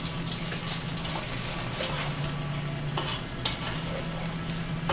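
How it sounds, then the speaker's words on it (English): Stuffed green pepper filling stirred in a hot pan, with soft scraping strokes over a steady sizzle and a low hum underneath, close and fairly even, no voices. "And then stir this all around."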